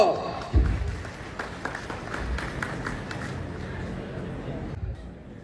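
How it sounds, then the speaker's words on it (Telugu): Applause from an audience at a felicitation gathering for a political leader, steady clapping that starts abruptly and rolls on for several seconds before tapering off. "చప్పట్లో"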